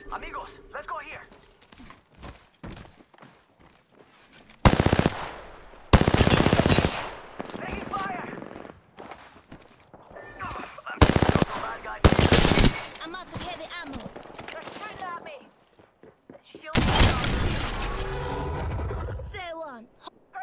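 Apex Legends gunfire cracks out in several loud rapid-fire bursts, from short volleys to a long sustained stream, between quieter stretches where a player talks.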